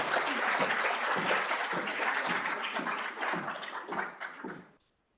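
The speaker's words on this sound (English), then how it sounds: "Can we get another round of applause?" An audience at a public immunology seminar applauds after a talk, a dense wash of clapping that holds steady, then thins into scattered claps and stops abruptly near the end.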